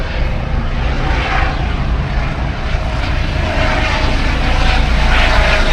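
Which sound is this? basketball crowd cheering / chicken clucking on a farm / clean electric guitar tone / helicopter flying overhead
helicopter flying overhead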